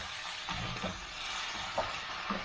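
Steady hiss of water sizzling and bubbling in a hot stir-fry pan over high gas flame, loud and close, with a few soft pops and stirring sounds.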